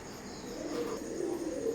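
Oman bloodline Teddy pigeons, zero-feather birds, give a soft, low cooing at close range, faint and continuous over a quiet room.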